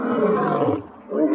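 A lion gives one loud, close, rumbling roar that fades briefly before a short second burst, heard on its own.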